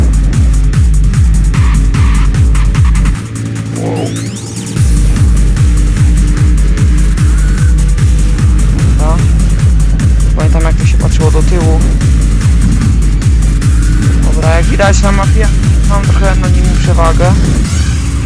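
Race cars launching from the start in the video game Need for Speed World, with a loud, steady engine drone, rising revs, and tire squeal that carry on throughout while someone talks over them.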